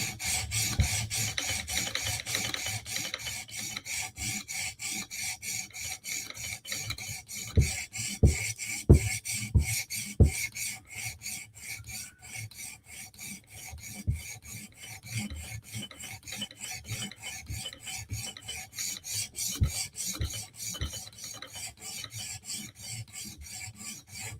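A Chris Reeve Sebenza Tanto knife is drawn across a sharpening stone toward a mirror edge in a fast, even run of rasping strokes, near and fairly quiet, with a few heavier scrapes partway through and no talk.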